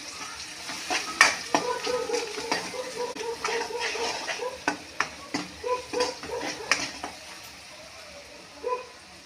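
A spiced mixture for small prawns and fish is stirred in a pan, with repeated scraping strokes and soft clinks over a quiet sizzle that fades out near the end.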